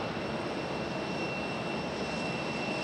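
An airliner at Raleigh-Durham International Airport gives a steady, even jet roar with a thin high whine on top, continuous and moderately distant with no talk.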